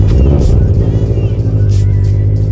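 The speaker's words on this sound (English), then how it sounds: "So we're gonna start the car." A car converted with an E85 flex fuel kit and a Stage 2 tune runs at a loud, steady idle, its deep engine rumble continuous and close throughout, with no voices.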